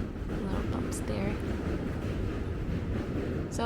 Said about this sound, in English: there's a subway on the right. There are actually 4 subway tracks on the lower deck of this bridge